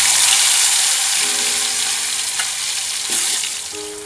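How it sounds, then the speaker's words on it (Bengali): Potato, pumpkin and kakrol (spiny gourd) frying in hot oil in a wok, a steady close sizzle with a brief clink partway through and no talking. "এবারে আলু, কুমড়ো, কাঁকরোল ভেজে নেব।"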